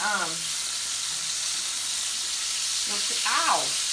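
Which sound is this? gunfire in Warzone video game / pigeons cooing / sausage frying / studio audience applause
sausage frying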